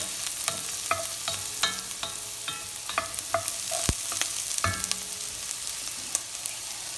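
Garlic and spices frying for black bean soup are stirred around a hot pot, a steady close sizzle broken by repeated sharp scrapes and clacks of the spoon against the pot.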